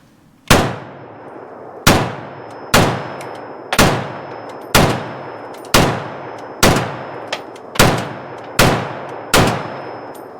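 A DSA SA58 Cuban model FAL rifle test fired outdoors, with ten sharp, loud shots at a steady pace of about one per second, each ringing out with a short echoing decay.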